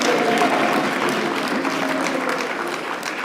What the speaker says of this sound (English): a round of applause for the SACU Diamond Ensemble.